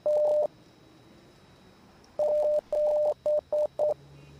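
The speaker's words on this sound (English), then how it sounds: "Fucking Morse code." Morse code beeping in the video game Rise of Insanity: a steady tone keyed into a long burst, a pause, then a run of several shorter beeps of varying length, clear and alone.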